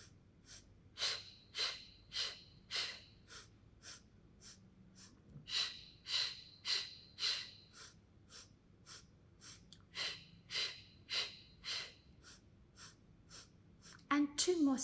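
Rhythmic breaths during a Pilates mat exercise, sharp repeated exhalations in steady bursts of four or five, clear and close, pausing between sets, with a louder rustle at the end.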